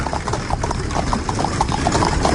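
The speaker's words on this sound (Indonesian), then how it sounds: "suara kereta kuda" Hooves of a horse pulling a carriage clip-clop in a steady, even rhythm, loud and continuous over a dense rumbling background, set late at night around one in the morning.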